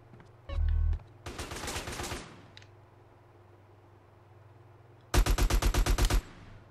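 Bursts of rapid automatic gunfire in GTA: San Andreas, a short heavy burst followed by a longer rattling volley, a pause, then another loud evenly spaced burst of shots, with no talk.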